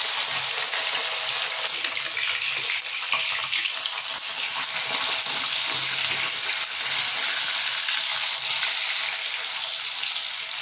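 Pieces of katla fish fry in hot oil for an Assamese-style kalia, giving a loud, continuous sizzling hiss with faint crackles and slight surges as they are turned with a spatula, and no voices.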